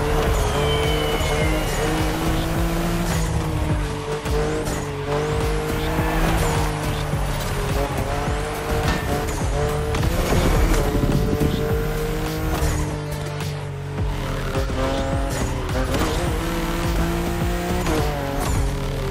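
BMW M4 Liberty Walk Edition racing in The Crew Motorfest, its engine roaring continuously with rising and falling revs through gear changes and squealing tires, loud and steady throughout.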